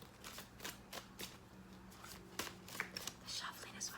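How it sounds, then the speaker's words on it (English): Rapid riffling bursts of tarot cards being shuffled, several quick flurries spread across the clip, close up, with quiet room sound between them. "The shuffling is what takes the longest."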